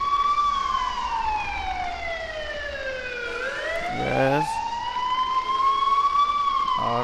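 An ambulance siren in a mobile rescue driving game wails in long rising and falling sweeps, loud and close, with a short burst of harsher engine or horn noise midway and a brief spoken word near the end.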